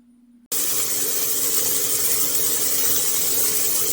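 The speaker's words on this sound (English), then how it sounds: "I put the hamburger in the screaming hot pan, and then I take the bench scraper and I'm going to smash it" Hamburger patty sizzling loudly in a screaming hot pan after being smashed flat with a bench scraper, a sudden burst of steady, close hissing and crackling that holds on without talking.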